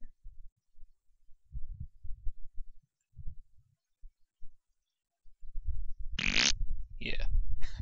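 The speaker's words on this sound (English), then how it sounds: "farting noise, right?" A synthesized fart noise built in LMMS music software plays as low, buzzy, sputtering bursts, quiet at first and then louder and longer with a brief high squeal near the end.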